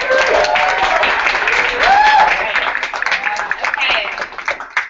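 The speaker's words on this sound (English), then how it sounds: "applause" Applause from an audience gathered for a student union election town hall, scattered clapping running under several voices talking and calling out, with the crowd noise rising and falling throughout.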